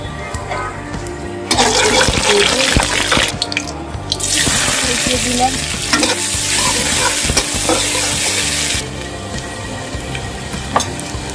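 Panch phoron spices hit hot oil in a wok with a loud, steady sizzle that starts after a quiet moment, crackles for several seconds with stirring, then falls away.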